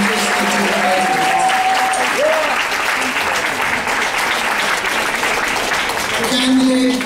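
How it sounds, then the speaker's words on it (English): Loud, sustained applause from a graduation ceremony audience in New York City, continuous throughout with a few voices faintly under it. "Let's give one more round of applause for all of us."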